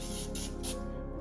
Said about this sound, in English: I'm spraying my pizza pan